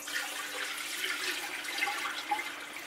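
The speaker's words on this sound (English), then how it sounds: "So I'm gonna strain my nuts and then I'm gonna spread them out" Soaked acorns being strained, with faint trickling and splashing water draining away, quiet and close, a few soft drips standing out.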